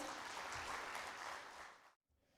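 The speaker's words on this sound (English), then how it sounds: "Ladies and gentlemen, can we please have a round of applause for it?" Broad, dense applause from the audience at a manufacturers and SME business summit's inaugural session, filling the hall evenly before it cuts off abruptly into silence near the end, then a faint murmur returns.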